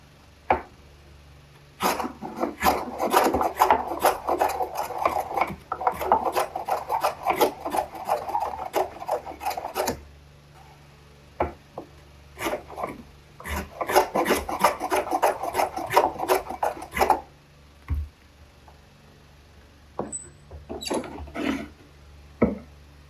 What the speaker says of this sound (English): Let's try our low angle block plane and this going across the grain.